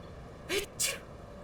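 A person sneezes during a video game playthrough, a quick two-part burst, a sharp intake and then an explosive release, close to the mic over quiet background.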